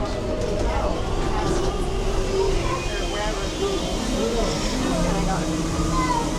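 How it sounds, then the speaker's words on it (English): The Walt Disney World Railroad train at Magic Kingdom rolls along with a steady rumble and clatter beneath an announcer's voice and nearby crowd chatter. "The train is still in motion."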